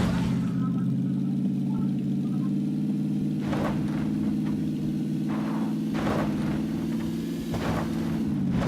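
A car engine in the game PUBG hums at a steady mid pitch, a continuous droning rev that dips slightly near the end, heard under a player's intermittent talking and bursts of noise.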